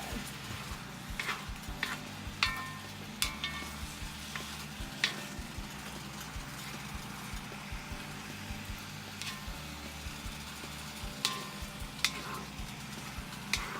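Filipino menudo stirred in a wok, a spatula scraping and pushing the pieces across the bottom with light steady sizzling and sharp intermittent clacks, close and fairly quiet, no speech.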